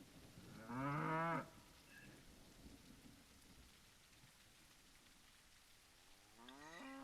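Cattle riding in train cars in the Railroads Online video game: two drawn-out moos, one early and one at the end, over a steady rain-like hiss.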